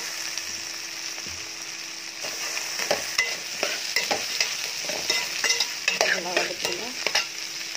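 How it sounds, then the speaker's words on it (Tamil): Potatoes and brinjal sautéing in a pan for a Tamil kathirikkai urulaikilangu kulambu, with steady frying sizzle and repeated scraping stir strokes growing busier over the second half. "இந்த மாதிரி வதக்கணுமா"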